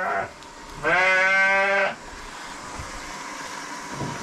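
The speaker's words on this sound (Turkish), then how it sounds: "Yavrulu koyun var ya." A sheep with a lamb bleats once, a loud, close, wavering call lasting about a second, on a livestock farm with faint background noise and no talk.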